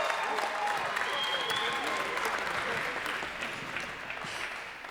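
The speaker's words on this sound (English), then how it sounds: "Round of applause for them." Crowd applause at the 2021 NIT men's basketball championship ceremony between Mississippi State and Memphis, a steady fairly distant wash of clapping lasting several seconds.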